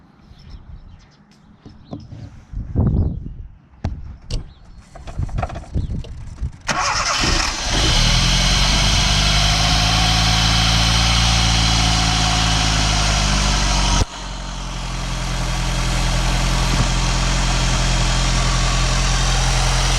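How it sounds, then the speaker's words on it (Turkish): A 2002 Doğan SLX iE car is started after some clattering handling sounds. The engine catches with a loud burst and then idles steadily and close by, with its tone dipping slightly partway through. "Ben bunu bir çalıştırayım Abdullah."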